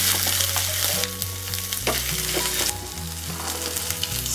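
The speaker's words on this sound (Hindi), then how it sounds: "देखिए ज़ीरा हमारे चटकने लगे हैं, इसमें मैं डाल दूंगी 1 हरी मिर्च छोटे छोटे टुकड़ों में काटी हुई है।" Cumin seeds, finely chopped green chili and a little grated ginger sizzle in hot oil over a low flame for a fasting-day dish, a dense, steady, close crackle that continues throughout.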